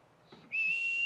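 A sharp, steady high whistle blast used as a signal to call children in a stage play, rising abruptly after a brief soft sound and holding loud to the end.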